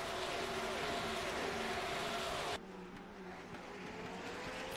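A McLaren Senna GTR hypercar circulating at Le Mans in rFactor 2, its engine a steady mid-distance drone with an abrupt drop in level and brightness partway through, no voices.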